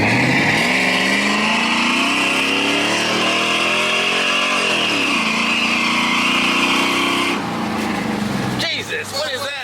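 A Chevrolet Silverado fitted with a FlowMaster 10 series muffler revs up and falls back in loud, rising and dropping sweeps, then cuts off abruptly, with voices talking around it.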